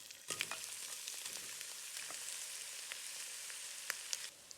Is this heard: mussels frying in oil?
yes